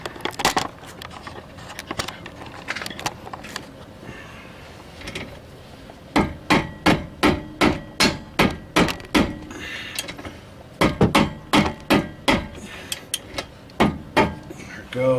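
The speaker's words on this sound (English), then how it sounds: "It's a sledgehammer or rubber mallet." A sledgehammer or rubber mallet pounds a brake rotor during a 2008 Saturn Vue rear brake job. Sharp, loud metallic blows come in two rapid rhythmic runs of about a dozen strikes each, with no talk.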